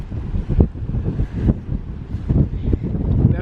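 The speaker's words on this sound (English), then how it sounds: "It's rainy and windy." Wind gusts buffet the microphone outdoors by a river near a dam in Wales on a rainy day, a rough, uneven roar with loud bursts and no clear voices.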